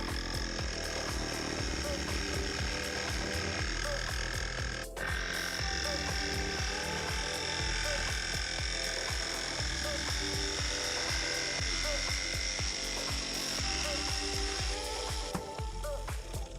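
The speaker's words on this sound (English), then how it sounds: "will go and cut a hole in the roof." A power tool cuts a hole in the roof of a Sprinter van for a Maxxair roof fan, a steady buzzing cut with rapid rattling that runs throughout at moderate level.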